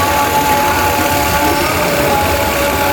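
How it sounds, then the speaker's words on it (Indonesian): Vacuum pump running during AC refrigerant charging, a loud steady mechanical hum with a constant whine, unbroken throughout, no talk. "Lalu hidupkan pompa vakum."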